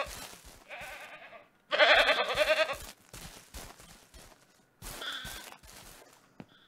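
A male goat in the video game Ranch Simulator bleats several times in wavering, nasal cries, separated by short pauses and light rustling, close and fairly loud.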